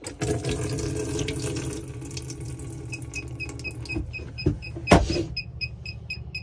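Water gushing from the cold tap of an Autocruise Starfire motorhome with a steady rushing flow, accompanied by a mechanical whine and a few clunks, fairly close.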